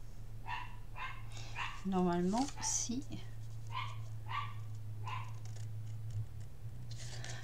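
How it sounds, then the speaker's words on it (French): Dog barking indoors in a home craft room during paper cutting, a few faint distant barks in the background under quiet talking, with a steady low hum throughout. "Ah, le chien aboie."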